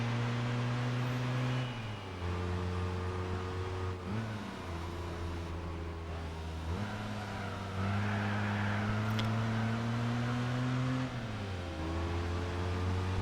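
Small K cars race in Gran Turismo 4's Lightweight K Car Cup, with a steady, faint engine drone that repeatedly climbs in pitch and drops as gears shift, heard alone without talk.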